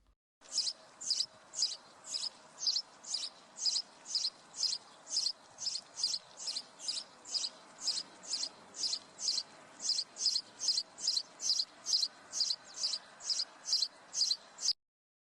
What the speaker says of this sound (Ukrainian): це горобчик